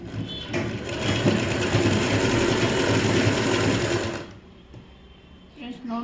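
A sewing machine stitches a plain blouse in a fast, steady whirring run lasting about four seconds, close and loud, then stops abruptly before a brief restart at the end.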